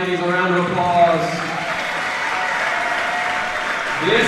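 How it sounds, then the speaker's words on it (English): A crowd at a girls' all-star basketball game gives a sustained round of applause for the players, with cheering voices and a few shouts mixed in. "let's give these ladies a round of applause"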